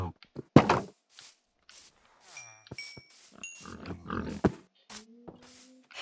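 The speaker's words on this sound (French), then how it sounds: "Petit cochon, viens ici." Pig grunts from a Minecraft game, several short low bursts interleaved with a voice and game sound effects, fairly close and moderately loud.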